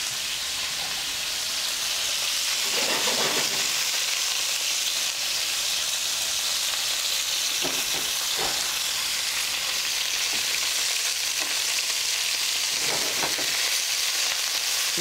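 Steak searing over quick, high heat in a hot pan gives a loud, steady, dense sizzle that holds unbroken for the whole stretch, with a few brief flare-ups of crackle.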